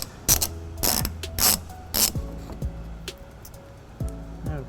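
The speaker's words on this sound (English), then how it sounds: "I'll go ahead and just spin the ratchet." A ratchet spins in quick bursts of clicking while trailer hitch bolts on a 2015 Toyota Prius Plug-In are run in, with several separate close, loud runs and short pauses between them.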